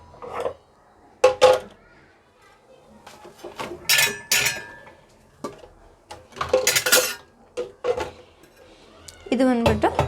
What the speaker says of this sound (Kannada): ನೋಡಿ ನಾನು ಚಾಪರ್ ಹಾಕಿ ತೋರಿಸ್ತೀನಿ ನಿಮಗೆ.